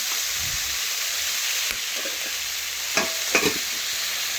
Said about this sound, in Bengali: লবণ দিয়ে ভালোভাবে একসাথে নাড়াচাড়া করে কিছুক্ষণ ধরে আমি ভেজে নেব